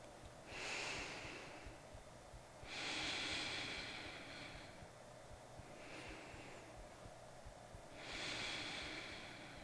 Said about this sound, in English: I invite you to be here for another 3 rounds of breath